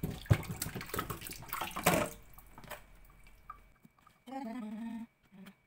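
Peeled vegetables are washed under running tap water, a brief close splash and trickle that soon fades to quiet, followed by a short tonal sound near the end.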